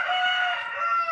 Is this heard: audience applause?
no